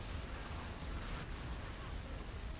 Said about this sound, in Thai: ตอนนี้ผมยิงทุกอย่างที่มีเลยอะเพื่อป้องกัน